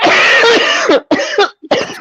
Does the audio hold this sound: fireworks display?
no